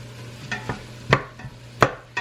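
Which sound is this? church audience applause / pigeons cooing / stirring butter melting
stirring butter melting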